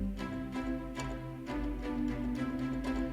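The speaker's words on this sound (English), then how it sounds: "When I activate this convolution reverb, it puts it in this space." Sustained orchestral-style strings in a Christmas-flavored theme, swelling in repeated rhythmic pulses and bathed in a spacious convolution reverb that gives a roomy, echoing tail, alone without voices.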